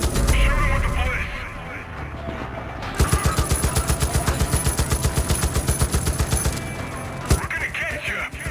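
A Far Cry 5 cutscene carries a sustained, evenly paced string of loud close gunshots, dozens of rhythmic bangs after a quieter rumbling opening, ending with a sharp final crack and speech around it.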